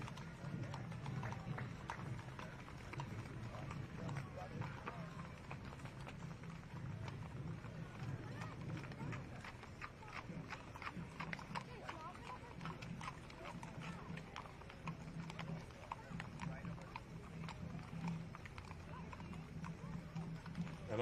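Horses from a horse owners association clip-clop along a street in a Veterans Day parade in Hilo, Hawaii. The hooves make a faint, continuous, irregular tapping under crowd murmur and a distant voice.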